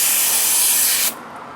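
Cleaner sprays in one loud, continuous hissing burst of about a second onto motorcycle front sprocket bolts, then cuts off abruptly, leaving faint room noise.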